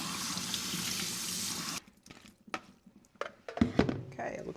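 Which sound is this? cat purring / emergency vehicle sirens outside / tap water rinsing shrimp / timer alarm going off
tap water rinsing shrimp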